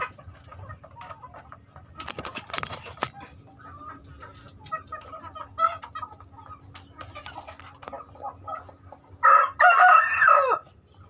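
A rooster crows loudly near the end, preceded by scattered clucks and softer bird calls from nearby fowl over a quiet farmyard background.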